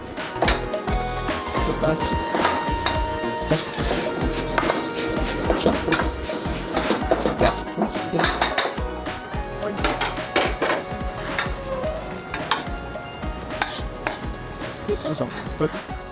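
A homemade sauce with sugar being stirred in a pan on the stove, with steady scraping and clinking of utensil against the pan throughout, under a loud continuous background of music.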